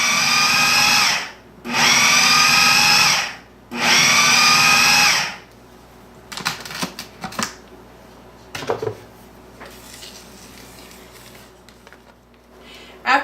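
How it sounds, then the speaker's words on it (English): Food processor pulsing tart dough with egg for a cranberry almond tart: three long loud whirring bursts separated by short pauses, then quieter clatter and scraping. "We process that 30 or 40 pulses until it's completely processed and everything is completely mixed together."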